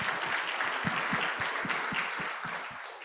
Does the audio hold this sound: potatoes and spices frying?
no